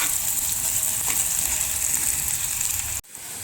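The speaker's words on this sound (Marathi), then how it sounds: "कांदा व्यवस्थित परतून शिजवून घ्यायचा आहे" Onion sautéing in a pan, a steady close hiss and sizzle with faint stirring, cut by a brief break near the end before the sizzle resumes.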